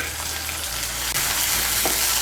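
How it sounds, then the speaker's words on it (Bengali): Ginger, garlic and green chilli pastes frying in hot oil in a pan, giving a loud, dense, continuous sizzle close up. "রসুন বাটাটাকেও তেলের সঙ্গে ভালো করে মিশিয়ে নেব।"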